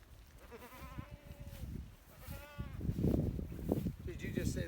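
A goat bleats hoarsely on a farm, with two or three rough, wavering calls close by, mixed with people talking and outdoor handling noise.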